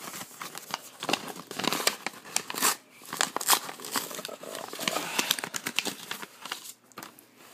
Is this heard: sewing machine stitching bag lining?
no